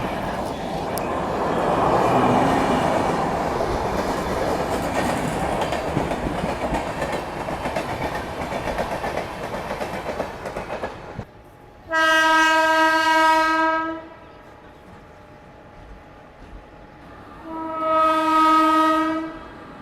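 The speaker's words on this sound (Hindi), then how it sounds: "मेरे ख्याल से समता एक्सप्रेस है ये।" The Samta Express, running Visakhapatnam to Hazrat Nizamuddin, passes on the crossing track with a heavy, steady rolling roar that cuts off abruptly. Two loud, sustained horn blasts follow, separated by a few seconds of quieter running.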